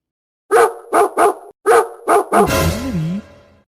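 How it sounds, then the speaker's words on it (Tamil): A dog barks loudly and close, six sharp barks in quick rhythm, then breaks into a long, wavering whine, with no people talking. "இங்கே நாய் நாய்ங்க அங்கே பாருங்க உங்கள் பக்கத்தில் இருக்குது"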